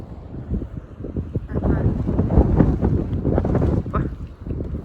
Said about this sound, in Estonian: siuke tuule, ma ei tea, kas te kuulete midagi